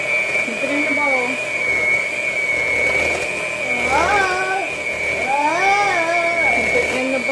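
An electric hand mixer whirs steadily as it beats chocolate chip peanut butter cookie dough in a bowl, holding a constant high whine throughout while children and an adult talk over it.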